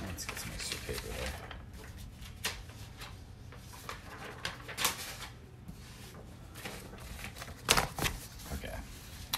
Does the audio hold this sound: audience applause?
no